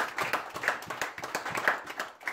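Church congregation clapping in praise during a sermon, a brisk run of hand claps, moderately loud and somewhat uneven, with no talking over it.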